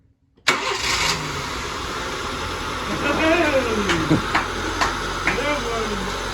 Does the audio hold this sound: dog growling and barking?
no